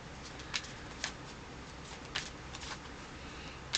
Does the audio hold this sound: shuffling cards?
yes